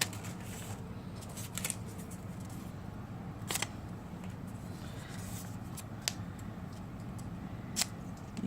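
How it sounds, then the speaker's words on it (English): Scissors cut paper in several sharp, crisp snips spread out over a quiet, low-level background hum. "I'll just cut one. With my kindergartner scissors here"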